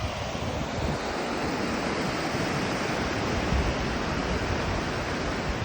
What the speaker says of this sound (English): I'm just seeing how far the waves come up.